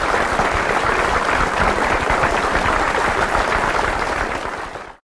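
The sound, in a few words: guests cheering and applauding, story sound effect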